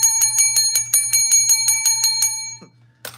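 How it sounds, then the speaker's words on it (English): A hand bell struck in a quick, even run of about a dozen bright, loud rings close by, then a short pause before one final strike. "And I got to hit this bell for you guys"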